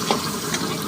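Garlic and onion sautéing in a pan for a chicken curry, a brief steady sizzle with a soft stir, close and alone.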